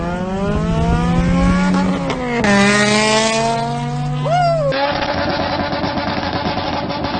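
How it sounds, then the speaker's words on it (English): An Acura CSX Type-S with a straight-pipe exhaust revs loud and close, its raw engine note climbing and falling through several throttle blips before settling into a rough, steady drone. "it also was straight pipe, so it sounded like this"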